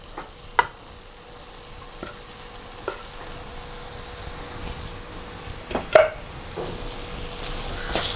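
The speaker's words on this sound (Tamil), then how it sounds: "நல்லா இந்த மாங்காய் கலவையில் கலந்துக்கலாம்." A spoon stirs cooked rice into a mango mixture in a pan, giving soft intermittent scrapes and clinks against the metal over a faint steady background hiss, with no talking.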